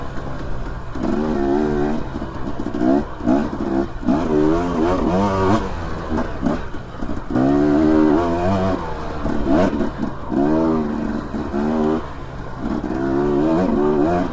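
A dirt bike engine with its air screw blocked off runs loud and close throughout, its revs rising and falling in repeated surges rather than settling into a steady idle.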